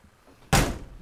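A door slams shut once in a garage, a single loud, close thud that breaks a near-silent moment and decays quickly.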